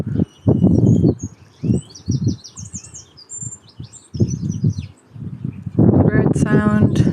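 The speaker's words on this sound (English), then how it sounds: "Bird sound." Small birds chirp and tweet in quick bursts among the alleyways of the coastal town of Kinsale in County Cork, Ireland, while a person talks over them nearby.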